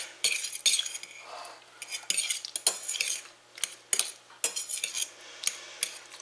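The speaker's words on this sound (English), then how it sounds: "I'm going to stir that in to combine it a little bit" A spoon scrapes and clinks repeatedly against a bowl while pepper is stirred into a squash patty mixture, close, in uneven bursts of clatter with short pauses, no talking.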